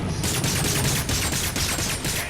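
Sustained gunfire in the video game Agents of Mayhem, a dense rattling barrage of rapid shots that stays loud and continuous throughout with no talking.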